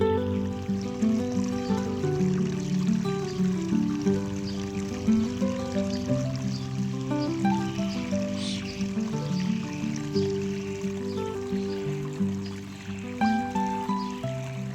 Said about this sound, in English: Your Blue Thumb Cascading Falls Pondless Kit is all set up and ready to enjoy